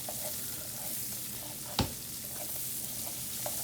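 Beef shank, carrots and potatoes simmer in a pan with a continuous faint sizzle and gentle bubbling, broken by one brief knock of a utensil near the middle.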